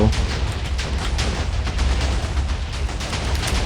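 Repeated explosions in the video game Minecraft form a dense, continuous barrage of booms and blasts, loud and sustained throughout with no pauses.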